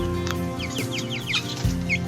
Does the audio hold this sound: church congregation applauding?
no